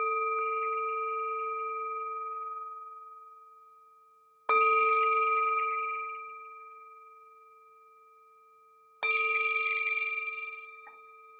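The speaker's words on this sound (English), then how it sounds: "The sound of the bell returns us to our true home." A meditation bell is struck three times, evenly spaced, each clear ring lingering and slowly fading into silence before the next.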